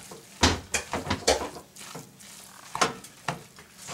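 Egg roll filling is poured and scraped into a big hot pot, with a series of sharp clunks, sizzles and stirring scrapes in uneven bursts.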